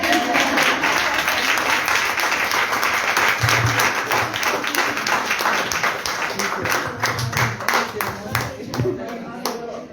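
Audience applause at a poetry book presentation in a cultural café, steady dense clapping from a small crowd sustained for about ten seconds, slightly thinning toward the end, with some voices mixed in.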